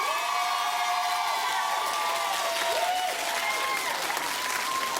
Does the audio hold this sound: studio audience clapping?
yes